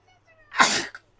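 One sharp, close sneeze bursts out loud and breathy, followed by a short faint exhale and the start of a voice.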